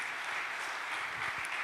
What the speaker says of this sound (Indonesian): Amin, kita kasih tepuk tangan buat Yesus kita yang luar biasa.